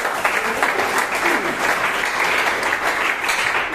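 Church congregation applauding steadily and densely throughout, a full room of clapping hands at even loudness, with no pause and no voice standing out.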